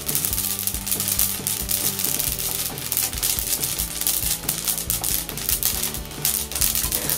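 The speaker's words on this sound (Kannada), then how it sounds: "ಈ ರೀತಿ ಚಟಪಟ ಸೌಂಡ್ ಬರುವವರೆಗೆ ಹುರಿದುಕೊಳ್ಳಿ." Flax seeds dry roasting in a pan, crackling and popping in dense, rapid, irregular bursts over a continuous sizzle, close and fairly loud, with no voices.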